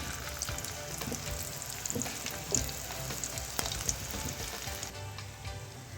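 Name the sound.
chickpeas frying in oil on medium flame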